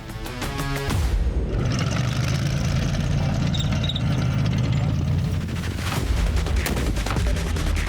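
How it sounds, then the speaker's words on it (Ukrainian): An RPG grenade launcher fires at simulated enemy positions during Ukrainian army training, with a sharp loud blast, followed by a heavy, sustained roaring rumble up close. "Гранатометник відпрацьовує РПГ по імітованих ворожих позиціях."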